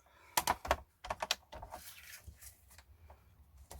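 An ATC card taped with washi tape is cut up close, giving a quick run of sharp clipping snips followed by softer rubbing and scraping.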